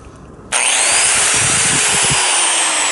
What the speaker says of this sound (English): I just plugged in a, a grinder that uses about 800 watts.